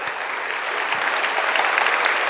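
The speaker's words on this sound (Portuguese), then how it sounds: "Então vamos aplaudir mesmo" A church congregation applauds Jesus with a loud, sustained burst of dense clapping that runs unbroken from start to finish.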